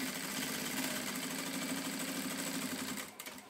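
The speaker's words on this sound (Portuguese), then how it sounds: "E agora eu vou começar então a costurar o meu forro." A sewing machine runs steadily as it stitches a quilted placemat lining with a half-centimetre seam, a close, continuous whirring hum that slows and stops near the end.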